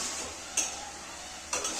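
Ingredients for a chicken donne biryani fry in a pan under a soft, steady sizzle, with two sharp metallic spoon scrapes against the pan about a second apart.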